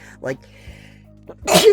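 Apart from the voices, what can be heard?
sneeze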